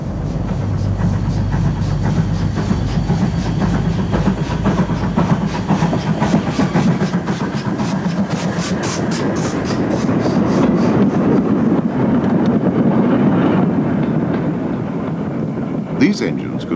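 A GWR 2251 class mixed-traffic steam locomotive, a 1930s Collett design, rumbles along the rails with rhythmic chuffing and clattering wheels, loud and steady, under a narrating voice.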